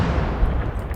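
An 88 gun fires in the Legion of the Damned war game, amid a dense, continuous rumble of distant artillery and gunfire that holds steady for about a second with no talking.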